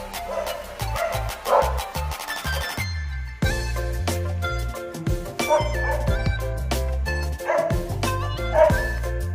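A dog barks repeatedly in quick bursts, fairly close and loud, beside a riverside squatter area, with a busy rhythmic backdrop running underneath.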